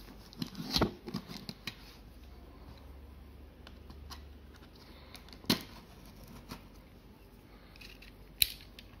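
A sealed Hot Wheels toy car package is opened by hand during an unboxing. Quiet sparse plastic crinkles and clicks are broken by a few sharper snaps and snips, close up, in a calm room.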